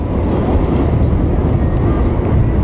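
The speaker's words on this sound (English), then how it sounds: "Whistling, the train is going by." Loud, steady rumbling roar of a train rolling past over a bridge across the River Ganga, with dense low-frequency clatter throughout and no pauses.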